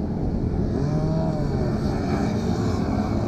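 A Honda CB300 motorcycle engine droning steadily at a kart track during a riding course, a loud continuous roar that slightly shifts in pitch as the bike passes.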